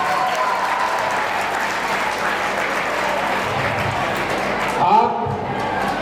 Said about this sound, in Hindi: तालियां सारे बच्चों की तरफ से।